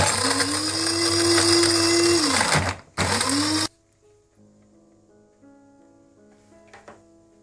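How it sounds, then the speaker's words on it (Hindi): Electric grinder grinding almonds and walnuts in a kitchen, a loud whirring motor burst that cuts out briefly, restarts for a second run, then stops, leaving quiet kitchen sounds behind. "अखरोट और बादाम को मैंने देखे इस तरह से ग्राइंड कर लिए।"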